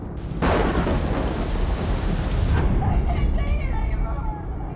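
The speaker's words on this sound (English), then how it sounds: "The storm has shaken Crystal to the core" Amazon rainforest thunderstorm with loud, close thunder rolling over heavy rain, a sharp crack at the start leading into a sustained roar that eases into steady rainfall with some rumbles.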